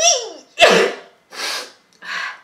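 A sneeze bursts out during mascara application, with a sharp inhaled buildup followed by two breathy exhalations, loud and close with no talk.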